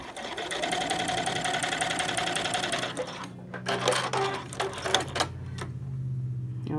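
A sewing machine runs steadily, stitching a quarter-inch seam in contrasting thread to join a front panel to an enclosed gusset, then stops, followed by scattered handling and fabric noises.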